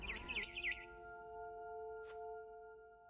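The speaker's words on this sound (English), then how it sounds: "Then I heard chirping outside my window." A barn swallow chirps in What Remains of Edith Finch, a few quick faint tweets at the start, followed by sustained soft tonal music with a single brief chime.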